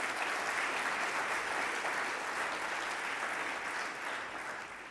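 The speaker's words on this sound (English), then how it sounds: "Please, a round of applause from Walmart," An audience at a US mayors' conference plenary session gives sustained applause, dense and steady, fading slightly toward the end.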